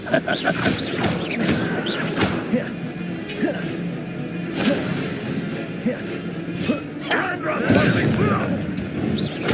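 Rapid spell-casting effects in the Hogwarts Legacy video game, with repeated sharp blasts, crackles and impacts bursting through a busy combat mix, while a voice speaks over the fight.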